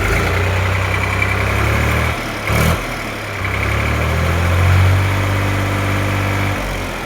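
A tractor with power steering and a clean, smokeless exhaust idles close by, a loud, steady low diesel rumble with a short dip and hitch midway before settling back into its even throb.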